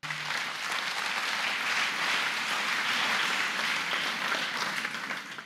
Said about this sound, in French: Je voulais demander à la salle vraiment d'applaudir très fort pour lui.